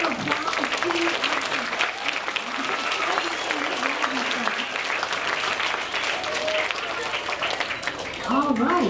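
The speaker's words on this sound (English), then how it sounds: "Let's give another round of applause to" Sustained crowd applause and clapping for a class at a school DARE graduation ceremony in Irvine, California, loud and steady throughout with a slight swell near the end.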